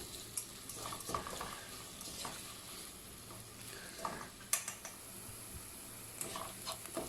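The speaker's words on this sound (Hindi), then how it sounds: "अब इसमें मैं शामिल करूँगी प्याज और इसे फ्राई कर लूँगी।" Oil sizzles steadily as onions fry in a pan with occasional stirring scrapes and clicks, a continuous hiss of frying close by.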